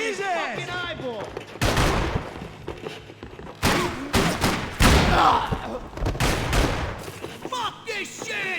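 Gunfire from the Max Payne 3 video game: bursts and volleys of shots with heavy thuds, loud and close, in repeated clusters across the scene, with character voices and game music underneath.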